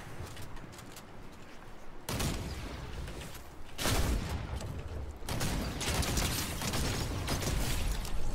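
Gunshots in Fortnite Season 4, heard as bursts of distant rattling fire and mechanical clatter that swell and fade over a noisy, shifting background.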